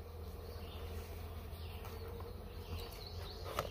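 Honey bees buzz in a dense, continuous swarm during a bee cutout in Webster, Massachusetts, with a steady droning hum close by and no talking.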